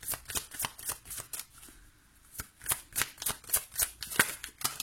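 Oracle cards shuffled by hand, a rapid run of crisp riffling flutters that pause briefly and then resume in quick rhythmic bursts, close and clear, no speech.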